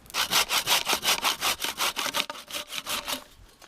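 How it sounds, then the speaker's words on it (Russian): Steady back-and-forth strokes of a hand saw cutting through a fallen tree trunk outdoors in a grove, about a dozen loud, even rasps that slow and fade toward the end. "Можно просто пилить и уносить"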